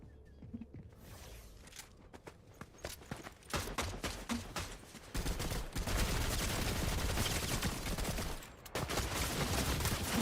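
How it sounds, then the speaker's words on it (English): Gunfire in a Fortnite match comes as scattered sharp shots that grow into dense, rapid bursts, faint at first and then loud and sustained. "Somebody shooting."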